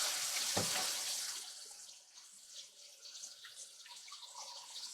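Water from a filter pouring into a gallon jug, a bright splashing stream that starts loud with an initial gush, then settles into a fainter, steady trickle with small drips.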